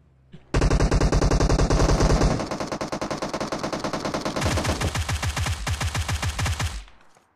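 Automatic weapon fire in a battle royale video game: loud, continuous rapid bursts lasting several seconds, first one fast stream and then a slightly slower rattling sequence, with no voices over it.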